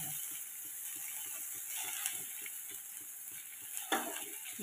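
Giant taro (gathi kochu) pieces frying in a pan, a steady soft sizzle with faint scraping stirs and a brief louder clatter near the end, no talking.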